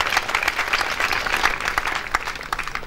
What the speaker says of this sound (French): On l'applaudit pour monsieur Lemboussou Kevin